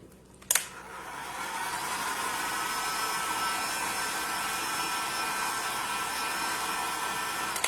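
A hair dryer blowing on decorative paint, starting with a sharp click and then a steady, close, even whir that runs on without a break.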